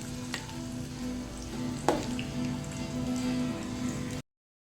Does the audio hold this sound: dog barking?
no